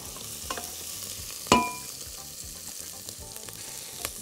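Garlic sautéing in a pan for minestrone soup, giving a steady low sizzle throughout with a sharp clatter of a utensil or ingredients near the middle, no voices.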